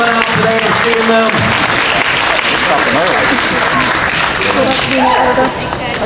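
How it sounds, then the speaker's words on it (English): Sustained applause from the audience at a A Nightmare on Elm Street 4 reunion panel at a convention, dense clapping filling the room with voices cheering and talking over it before it begins to fade. "Let's give yourselves a big round of applause for coming out today and seeing them."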